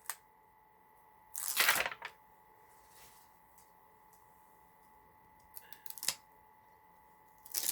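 Backing being peeled off double-sided tape while making a paper card: a quick crackling rip, followed later by a couple of softer crinkles and clicks over quiet room hum.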